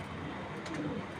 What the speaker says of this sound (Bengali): এইগুলো হলো টুর্নামেন্টের কবুতর, একদম লাল দানার